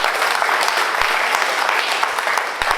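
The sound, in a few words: audience applauding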